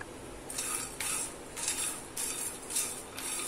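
Fox nuts and flattened rice dry roasting in a pan with no ghee, giving a close, steady rustling scrape in about five repeated sweeps as the pieces are stirred and tossed, with no talk.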